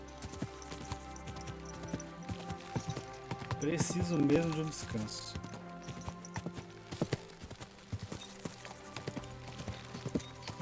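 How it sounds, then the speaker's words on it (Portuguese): Horse hooves clop at a slow, relaxed trot in the medieval video game Kingdom Come Deliverance 2, making a steady rhythmic patter under a man's speech and game sounds. "É o cavalo ir cavalgando num ritmo mais lento, mais tranquilo."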